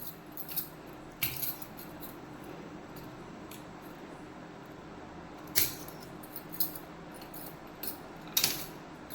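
Knife cutting ivy gourd into small pieces, a few quiet, sharp chops spaced irregularly against a soft background, with no talking.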